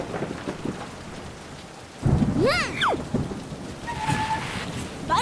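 Rain and thunder in an animated cartoon: steady rainfall under a sudden loud thunder crack and rumble midway, with cartoonish whistling tones rising and falling over the storm.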